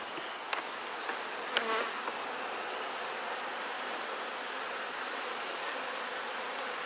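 A loud, continuous hum of honeybees swarming close by at a hive, a thick steady buzz with a few brief knocks near the start.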